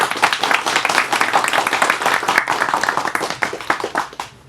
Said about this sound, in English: So let's welcome Dr. Sledge with a round of applause.